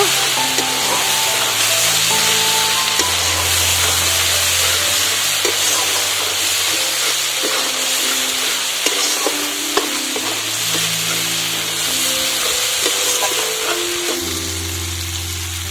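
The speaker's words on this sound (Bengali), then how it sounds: "পরিমাণ মতো হলুদ গুঁড়ো শুকনো লঙ্কার গুঁড়ো মশলাটাকে একটু কষিয়ে নেব" Turmeric and dry chili powder sizzle steadily in hot oil for an egg and potato curry, a dense close frying hiss that runs throughout with occasional stirring scrapes and a faint steady hum beneath.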